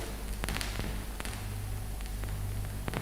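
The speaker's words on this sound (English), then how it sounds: "This is the sound of vinyl brought to you through the medium of magnetic tape." Vinyl record surface noise from a turntable stylus tracking a blank disc, dubbed onto magnetic cassette tape: steady hiss and low rumble scattered with sharp clicks and pops, continuous and close, with no voices.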